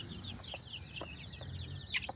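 Farm chickens cluck in short, soft bursts over a low background murmur, with a brief sharper call near the end, no talking.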